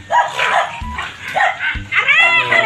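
Several dogs bark and yip close by in quick, overlapping bursts, with some whining between barks.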